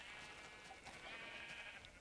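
A blocky sheep in Minecraft bleats faintly in a few short, quiet calls over a low steady background hiss, with no talk over them.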